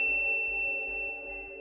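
A bright bell-like notification ding rings out clearly, with a sustained tonal chime sitting over a soft, rhythmic low pulsing backing.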